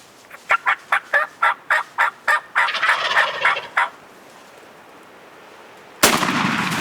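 A wild turkey gobbler in an Oklahoma spring hunt lets out a rapid series of about a dozen loud gobbling bursts, followed by a short pause and then a single sharp, booming shotgun blast close by.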